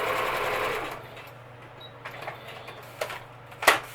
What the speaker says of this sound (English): And I'm going to stitch the second tag down.